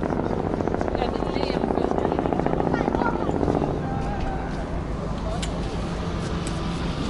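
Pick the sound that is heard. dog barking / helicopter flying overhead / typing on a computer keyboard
helicopter flying overhead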